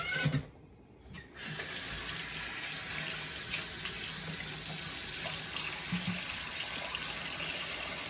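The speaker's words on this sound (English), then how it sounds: "now we're going to fill the sink with cold water so that we can wash the greens." Cold tap water pours steadily into a sink, a constant rushing flow after a brief pause near the start.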